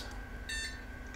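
A short electronic POST beep from a Pentium II computer, a steady high tone sounding once briefly over a quiet background hum.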